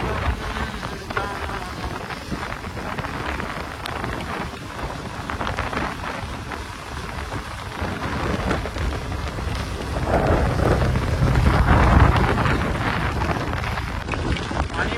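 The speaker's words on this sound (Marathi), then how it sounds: "पाऊस जोरदार झालेला आहे." Heavy rain pours steadily during a TVS motorcycle ride at Tamhini Ghat, with gusts of wind rumbling against the microphone, growing louder toward the end, with occasional faint voices underneath.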